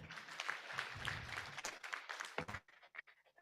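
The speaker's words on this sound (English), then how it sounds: "Another round of applause." Seminar audience applauding at an accountants' annual seminar: a few seconds of fairly faint, scattered clapping in a large room that thins out and stops near the end.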